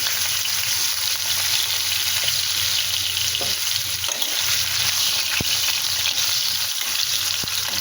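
Water hits a hot pan in a curry of fried eggplant, giving a continuous close hiss and bubbling sizzle with a couple of faint utensil taps.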